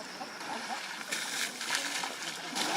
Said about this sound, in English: They are extremely fond of water and love to splash around at every opportunity